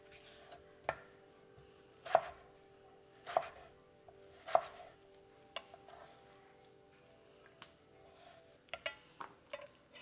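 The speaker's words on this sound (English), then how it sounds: "Super easy to cut French fries at home." A knife chops through potatoes on a board, cutting them into French fries for air-fried fish and chips, with sharp, evenly spaced knocks and a few quicker cuts near the end, close and clear with no talk.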